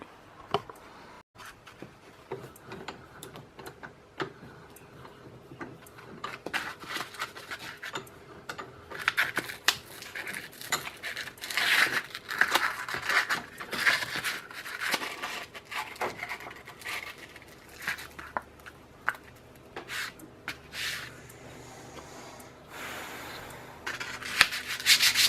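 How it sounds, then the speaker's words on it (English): Steady, scratchy rubbing of rust from a rusty Opinel knife blade, faint and close, with irregular strokes continuing for the whole stretch. "I think I'm just going to take a bit of this rust off"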